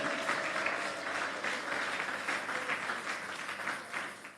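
Church congregation applauding during a Sunday worship service, a steady dense wash of clapping throughout, fairly loud and sustained without a break.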